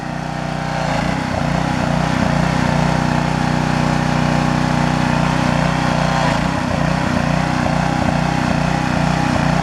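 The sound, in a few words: power washer engine running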